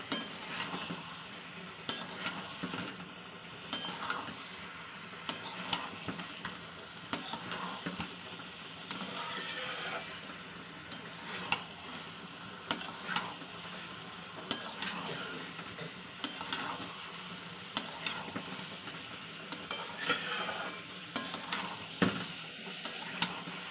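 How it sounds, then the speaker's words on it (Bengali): Egg and potato with peas stir-fried in a pan, a steady sizzle broken by repeated sharp scrapes and clinks of the spatula against the metal, close and continuous with no talk. "এভাবে একটু কষিয়ে নিতে হবে।"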